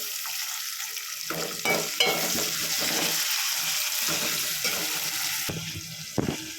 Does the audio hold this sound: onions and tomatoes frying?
yes